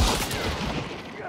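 A single shotgun blast in the video game Hunt: Showdown, loud and close, opening the clip and trailing off into a long, noisy in-game rumble with no speech over it.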